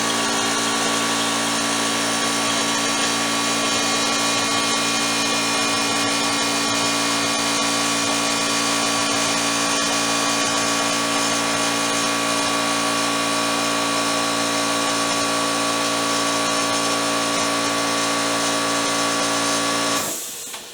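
Small 1/3 horsepower machine running a one-flute cutter at 100 RPM, a constant close electric whine and hum that holds steady for about twenty seconds, then winds down at the end.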